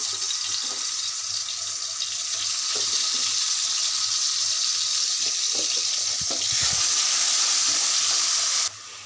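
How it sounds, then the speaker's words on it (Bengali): Onion and garlic paste fries in a pot on a stove, giving a steady, fairly loud sizzling hiss throughout, with a few soft clinks from stirring and no voices. "পেঁয়াজ বাটা দিয়ে দিয়েছি এখানে দিয়ে দিচ্ছি রসুন বাটা"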